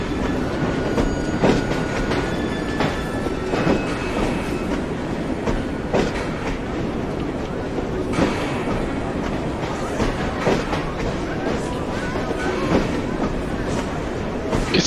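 Train running on rails in the video game Assassin's Creed Syndicate: a steady, loud rumble with rhythmic clickety-clack of wheels over rail joints and occasional metallic squeals, with voices talking over it.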